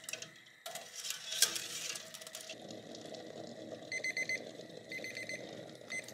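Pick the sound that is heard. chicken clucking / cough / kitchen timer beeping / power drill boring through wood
kitchen timer beeping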